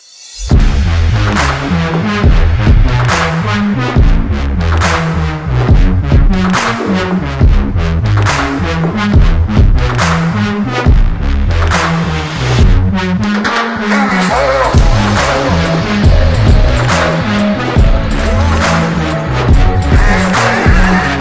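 A Royal Enfield Himalayan motorcycle engine, 2022 model, revved loudly and close by in a sound test, with repeated rising and falling revs over a steady exhaust roar.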